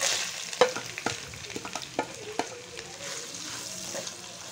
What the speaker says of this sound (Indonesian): Kita tumis dia guys sampai dia naik bau dan kuning keemasan.